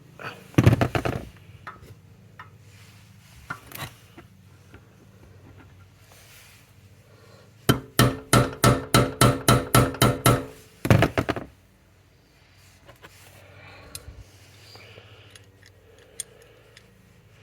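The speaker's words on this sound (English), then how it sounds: "I'm going to try and tap on this to close the gap a little bit." Repeated tapping on an engine part of a seized Vespa P200E scooter engine during a rebuild, done to close a gap: a brief knock early, then a quick run of about ten sharp, evenly spaced metallic taps, near and loud, followed by a few more.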